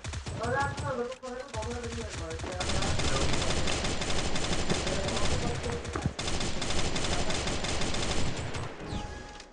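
Rapid automatic gunfire rattles almost without pause in Free Fire, sustained bursts over game music and effects, loud and close, with a short break near the start.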